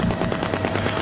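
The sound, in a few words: gunfire returned at police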